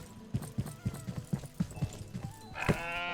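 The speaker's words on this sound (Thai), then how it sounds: "แพะมา" Goat in a farm video game, preceded by a quick run of hollow hoof clops, then a loud, wavering bleat near the end, with nobody talking over it.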